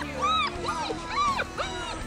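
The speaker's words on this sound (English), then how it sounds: "And the puppies are barking and running" Hovawart puppies give a run of high, arching yips and whines in quick succession, loud and close, sounding like several young dogs calling together.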